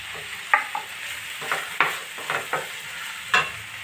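Onions, tomatoes and green chilies fry in a pan under a steady sizzle, punctuated by several crisp spatula scrapes and clicks as the mixture is stirred close up.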